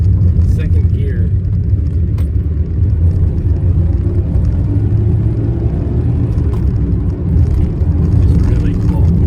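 A car's engine pulls hard in second gear to overtake, a loud, steady low rumble filling the cabin throughout with no clear rise in pitch.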